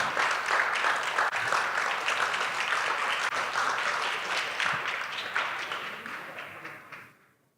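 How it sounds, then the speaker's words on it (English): An audience at a poetry reading gives a professor a warm round of applause: dense, sustained clapping from many hands that fades out at the end. "can we give him a warm round of applause?"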